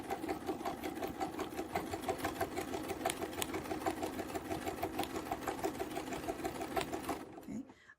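A sewing machine stitches across a quilt along a ruler with a ruler foot, running steadily in a fast, even mechanical rhythm at close range before stopping abruptly near the end.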